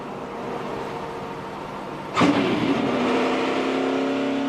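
NASCAR race cars at the 2014 DRIVE4COPD 300 run steadily, with one car's engine swelling loudly past at close range midway, then a sustained droning hum as others circle on.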